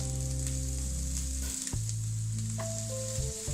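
Chopped tomato hits a pan of frying onions for mixed-veg macaroni, giving a steady, close, loud sizzle with a brief dip and crackle as it goes in, then continuing fry hiss.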